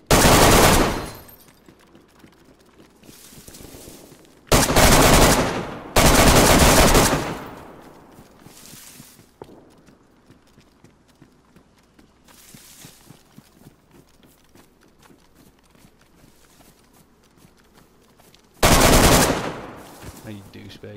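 Loud bursts of video game gunfire come in several separate volleys of sustained shooting, with quieter stretches of faint movement and background game noise between them.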